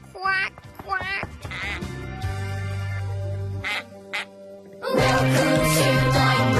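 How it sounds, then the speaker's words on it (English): Cartoon ducks quacking in an animated children's show, a few quick loud quacks at the start, then the calls continue over music and sound effects. "even some ducks. Quack, quack."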